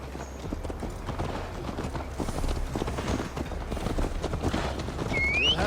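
Horse hooves clip-clop steadily while riding in Assassin's Creed Valhalla, a continuous rhythmic gallop at moderate volume, with a faint whinny near the end.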